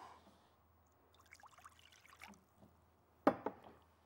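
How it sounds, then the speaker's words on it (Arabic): Water poured from a dish into a bowl while making a homemade natural shampoo in a kitchen; a faint trickle and dribble runs through the middle, then a short louder splash near the end over a low room hum. "نحط شويه ميه هنا"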